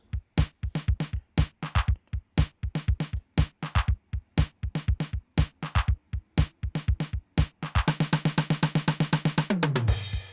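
A basic programmed drum beat built in Ableton, with punchy kicks and snares in a steady groove, ending in a dense fill and a washing crash cymbal, loud and alone.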